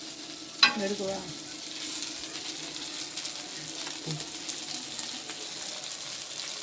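Curry leaves and coriander frying in a pan, with a sharp stirring clatter near the start and a steady soft sizzle running underneath throughout.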